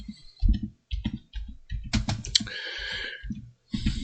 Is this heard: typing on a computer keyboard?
yes